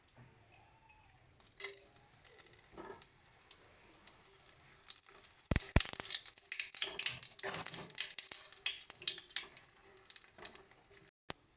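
Cumin seeds, dried chillies and bay leaf hit hot oil for a Bengali potato-and-dal dish, giving a rising close sizzle and crackle with a few sharp pops, after a brief stretch of quieter kitchen sounds.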